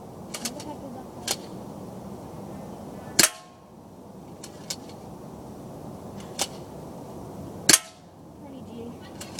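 Shots from a Crosman Stinger S32P airsoft gun, sharp isolated cracks a few seconds apart, two louder and several softer, over a quiet background hum.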